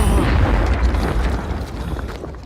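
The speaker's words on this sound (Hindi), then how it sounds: "धमाका।" A loud, sustained explosion rumbles through a film action scene, a dense low boom that holds steady and slowly tails off over a couple of seconds with no voices.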